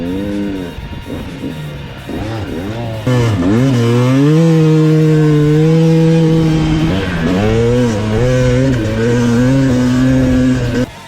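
A dirt bike engine revs hard out in Australian desert dunes, a loud close whine that climbs and falls in pitch, surging as the throttle opens, then holding a strong sustained drone.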